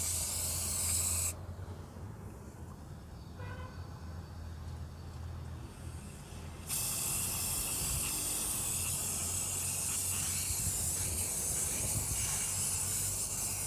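Loud, steady hiss of a paint sprayer coating wood outdoors in wind, dropping to a quieter stretch in the middle before the full spray resumes for the rest of the clip.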